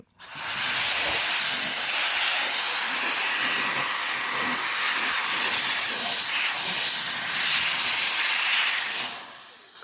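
A rechargeable air duster blows a steady, loud hissing stream of air for nearly ten seconds, starting and stopping abruptly, with no talking.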